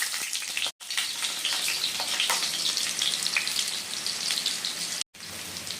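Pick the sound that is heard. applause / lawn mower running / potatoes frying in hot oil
potatoes frying in hot oil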